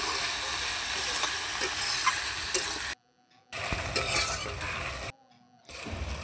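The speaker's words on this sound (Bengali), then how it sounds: "তেল আর ঘিটা গরম হয়ে গেলে কেটে রাখা পেঁয়াজটা কড়ার মধ্যে দিয়ে দেবো। দিয়ে ভালো করে নাড়াচাড়া করে পেঁয়াজটা ভাজা ভাজা করে নিতে হবে।" Chopped onions frying in hot oil and ghee in a kadai give a steady, close sizzle with stirring scrapes, broken by two short silent gaps.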